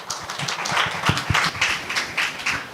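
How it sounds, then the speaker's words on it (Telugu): A church congregation at a live Sunday service claps to welcome the bishop, a steady wash of many hands clapping, moderately loud and sustained, with a few sharper individual claps standing out. "మన బిషప్ గారిని చప్పట్లతో ఆహ్వానించుకుందాం"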